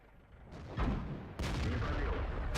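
Two heavy cannon booms from an Object 430 tank in World of Tanks, the second following about half a second after the first and ringing out with a long, loud tail.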